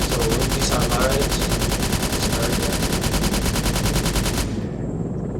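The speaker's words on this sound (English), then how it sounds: "We're town. engaging enemies with 20mm cannon which can cut through lightly armored vehicles like through butter" A 20mm cannon fires in Arma 3, a loud, continuous rapid stream of shots for about four and a half seconds before cutting off abruptly into a lingering rumble.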